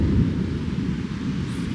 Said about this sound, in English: The longest thunder ever.